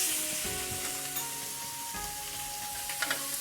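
Fresh tuna searing in a hot pan for tuna tataki, a strong continuous sizzle close by, with a few short clinks from the pan and a slightly louder flare near the end, with no talking.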